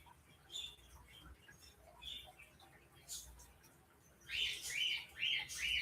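Pet birds kept in a house give quiet scattered chirps and tweets, then a louder run of repeated high calls near the end over a low room hum.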